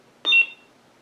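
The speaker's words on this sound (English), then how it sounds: "wait for that first beep and release." A Hasbro Force FX Darth Vader lightsaber converted with a Nano Biscotte V4 board gives a single short electronic beep, clear and close in a quiet room.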